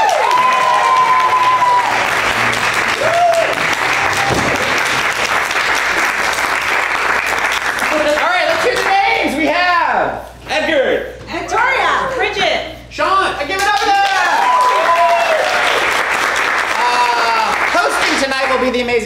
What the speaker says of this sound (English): I got the least amount of applause